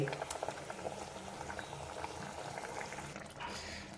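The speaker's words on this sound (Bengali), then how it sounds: "জলটা ফুটে গেছে। এবার এই ডিমের ধোকলাগুলোকে দিয়ে দিচ্ছি।" Water bubbles at a steady rolling boil in a pan as pieces of egg dhoka are added while cooking Bengali dim alur dhokar dalna, a soft continuous bubbling close to the pan.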